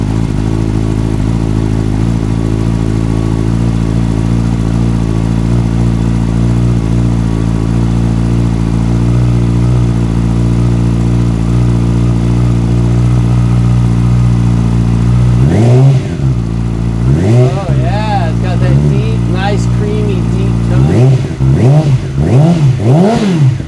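A Yamaha R6 motorcycle with a full exhaust system idles with a deep, throaty rumble, then revs sharply several times, each blip rising and falling, loud and close.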